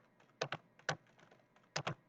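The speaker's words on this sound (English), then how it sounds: "I'm literally just like punching the keyboard right now" Keys on a computer keyboard are struck hard in quick pairs and single jabs, sharp and close, with short pauses between the bursts and no talk over them.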